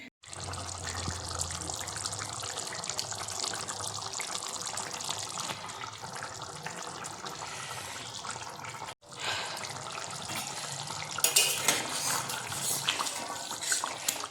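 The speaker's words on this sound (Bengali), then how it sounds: "এখন ধোবো হচ্ছে সসপ্যান আর মিক্সির জার, মানে মশলা করেছিলাম সেই মিক্সির জারটা ধোবো" Running tap water splashes as a saucepan and a mixer jar are rinsed and scrubbed at a sink, a moderate, continuous wash with a brief break near the middle.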